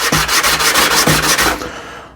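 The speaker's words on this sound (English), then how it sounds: "what I have here is just a 240 grit sandpaper, and just clean up the shavings a little bit" Hand sanding with 240-grit sandpaper smooths away shavings on turned wood, giving a close, brisk run of about eight even back-and-forth rubbing strokes that trail off at the end.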